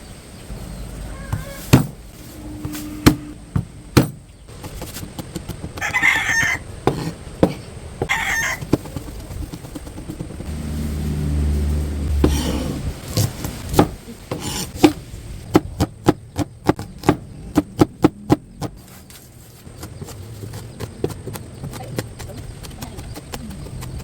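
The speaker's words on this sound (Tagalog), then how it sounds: "Ngayon naman po ay bawang at sibuyas ang ating hihiwain." A knife chops garlic and onion on a board while making lomi on a rainy day: scattered sharp taps, then a quick run of rapid, evenly spaced chops near the end, with some background rumble in between.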